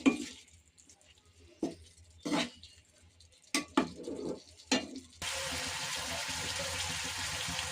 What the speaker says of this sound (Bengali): উচ্ছে ভাজি করছি, যে ছোট ছোট গোল আলু আছে না, এই যে এটা দিয়ে